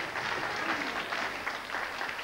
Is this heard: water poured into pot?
no